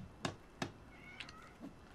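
An angry cat in The Forest video game gives two sharp, close meows in quick succession, followed by a couple of fainter, thinner cries, all over a low steady game background.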